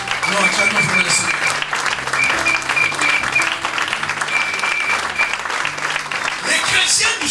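A church congregation claps and cheers in praise of the Lord, dense continuous applause with a steady hum and voices mixed underneath, filling the room from start to finish.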